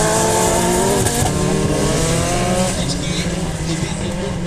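Rallycross cars with 2.2-litre turbocharged five-cylinder engines racing at Krivodol in 2014, a loud sustained engine roar with shifting revs and tyre noise, close by, overlaid with continuous commentator talk.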